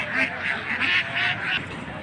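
Raspy, repeated calls of Muscovy ducks just let out onto a field at a livestock market, a string of five or six harsh bursts in steady rhythm with faint crowd murmur behind.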